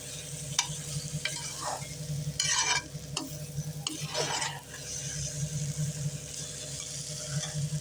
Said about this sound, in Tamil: இதை வந்து போட்டு நெய்யெல்லாம் ஏற்கனவே தொட்டு கொஞ்சம் வதக்கிக்கலாம்